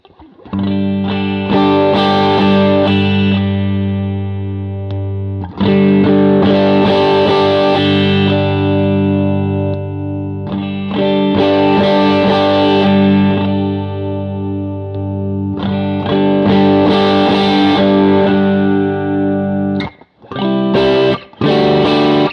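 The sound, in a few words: electric guitar through Tuesday Experiments Sonic Drive Deluxe pedal, toggled on and off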